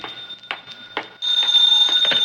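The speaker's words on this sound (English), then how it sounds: "Now the phone." Old-fashioned telephone ringing in a vintage radio comedy: a few short, loud bell bursts, then a continuous ring that carries on to the end, with no talking.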